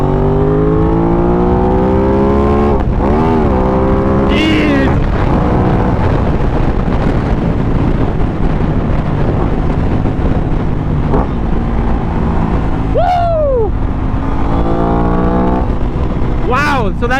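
An Aprilia RS 660 sport bike accelerating hard, its engine note climbing steeply through several gear changes with brief dips between shifts, loud and close like a rider-mounted recording, with wind noise underneath.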